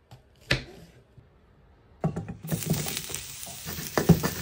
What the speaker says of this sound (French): Je vais faire aussi griller, purée, des petits champignons.